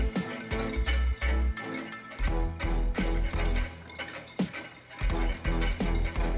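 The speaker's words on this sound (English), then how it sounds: "throw in a stick of butter, and start whisking." A stick of butter being whisked into blueberry sauce in a pan off the heat, a fast, continuous metallic whisking and clinking against the pan, close and busy, with background music throughout.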